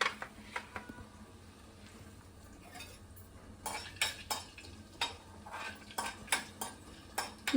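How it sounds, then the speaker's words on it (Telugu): Chana dal tempering frying faintly in a pan at home, with repeated sharp scrapes and clinks as a spoon stirs it against the metal pan. "మనకి పోపు వేగాలి కాబట్టి ఫస్ట్ పచ్చెనపప్పు వేస్తున్నాను."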